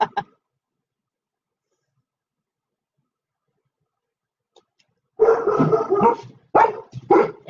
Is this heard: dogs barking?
yes